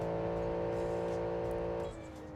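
Simulated car engine in BeamNG Drive held at full throttle in fifth gear on a dyno, a loud steady drone with strong harmonics that drops in pitch and level near the end as the throttle eases.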